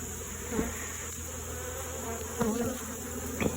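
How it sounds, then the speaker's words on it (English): Nurse bees are shaken into a flea market hive, and a dense, steady buzzing of many bees fills the clip, with a few soft thumps from the shaking. "Shaking some extra nurse bees in there."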